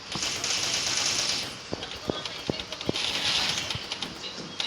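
Rapid bursts of video game gunfire, sharp repeated shots over a steady background of game noise, fairly close and loud, with faint voices in the mix.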